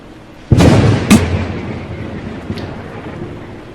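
Thunder from a lightning strike in an animated short film: two sharp, loud cracks close together, then a low rumble that slowly fades, with a fainter crack near the end.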